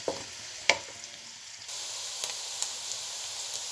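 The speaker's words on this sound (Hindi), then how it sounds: "प्याज हमारा हल्का ब्राउन होने वाला है, अभी थोड़ा सा और पकने दें" Chopped onions fry in a pan for chatpatti aloo gobi, cooking toward light brown: a steady, close sizzling hiss with a sharp utensil clink near the start, the frying growing louder and fuller partway through.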